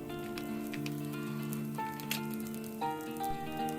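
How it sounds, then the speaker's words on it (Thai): Chopped onion sizzles steadily in a wok as Thai-style fried rice is stir-fried, a continuous close crackle with a few sharper pops, under a bright tonal hum from the kitchen and no speech. "เมื่อผัดจนได้ที่แล้วเราก็ใส่หอมใหญ่หั่นเตาลงไปนะครับ"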